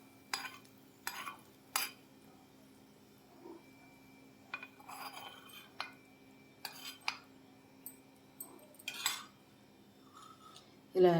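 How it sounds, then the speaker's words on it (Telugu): A spoon scrapes and clinks against a pot while mango rava kesari is stirred, in short, separate strokes spread over several seconds over a faint, steady background hum. "ఇలా యాడ్ చేసుకొని మిక్స్ చేసేసుకోండి."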